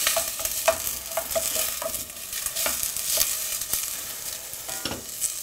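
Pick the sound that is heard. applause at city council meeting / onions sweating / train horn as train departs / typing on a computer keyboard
onions sweating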